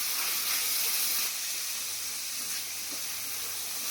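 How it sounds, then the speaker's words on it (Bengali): Green peas tipped into a hot frying pan give a steady, hissing sizzle that fills the clip at moderate volume with no talk. "কড়াইশুঁটি দিয়ে দিলাম।"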